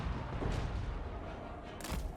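Cannons firing in Total War Warhammer 3 battle, two distinct booms about a second apart over a low rumbling battlefield din, fairly faint and without speech.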